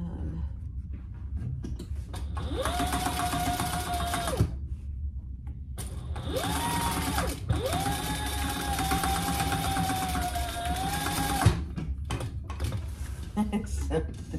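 Sewing machine stitching a thick hobo bag, its motor whirring close up in three runs, a long stretch, a short burst, then another long stretch, with brief pauses and light handling clatter between.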